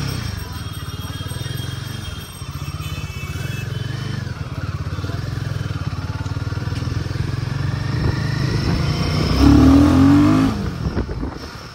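A Royal Enfield 452 cc motorcycle pulls away quickly, its engine note climbing steadily as it accelerates and swelling louder near the end before a brief gear change.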